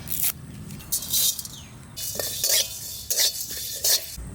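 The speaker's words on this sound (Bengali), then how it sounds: "এবার আমি কড়াই চাপাই জিরে ধনে শুকনো লঙ্কা তেজপাতা আগে একটু শুকনো খোলায় ভেজে নেব" Cumin, coriander, dried chillies and bay leaves dry roasting in a wok, heard as several sharp bursts of spatula scraping and rattling spices between short quiet pauses, close and fairly loud, with no voices.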